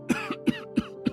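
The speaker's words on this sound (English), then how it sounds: "we're back to coughing" A young man lying sick in bed coughs four or five times in a steady rhythm, sharp close coughs separated by short pauses.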